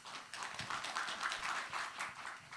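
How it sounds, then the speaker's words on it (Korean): Audience applause at a Korean brain-trainer wellness conference welcoming a guest speaker, a soft, fairly distant patter of clapping hands sustained evenly throughout. "모두 큰 박수로 맞이해 주시기 바랍니다"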